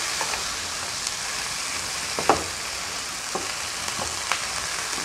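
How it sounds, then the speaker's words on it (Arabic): Cauliflower stir-fried in a pan with peppers, garlic and onion for a spiced Egyptian cauliflower dish, giving a steady soft sizzle with a few brief scraping stirs scattered through, fairly close, with no talking. "هنحطه على الفلفل مع الثوم مع البصل، هنقلبه ببعض كده"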